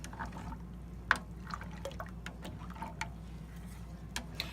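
Milk with yogurt starter stirred in a pot for Instant Pot yogurt, heard as faint, sparse liquid swishes and small utensil ticks against a quiet background.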